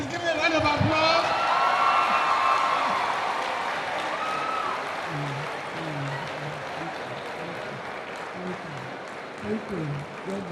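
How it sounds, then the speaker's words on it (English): A church or event audience applauds after being asked to stand and face the crowd, a dense wash of clapping that starts loud and eases slightly over about ten seconds while a voice talks over it. "Please give me a round of applause."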